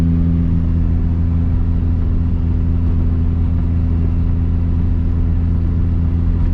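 A 1000+ wheel-horsepower MKIV Toyota Supra cruising, its engine holding a steady low droning rumble heard from inside the car, loud and continuous with no speech.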